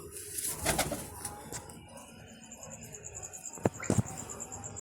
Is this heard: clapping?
no